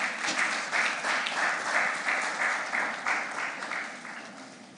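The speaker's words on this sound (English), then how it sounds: "Another round of applause." A crowd applauds at a conference opening day as a speaker is welcomed on stage, steady rhythmic clapping from many hands, loud and even throughout before tapering slightly at the end.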